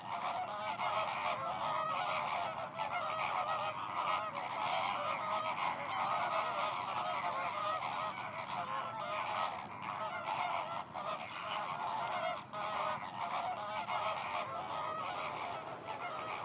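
A large flock of waterbirds at the Biguglia lagoon in Corsica, dense goose-like honking and calling from many birds at once, loud and continuous with no voices.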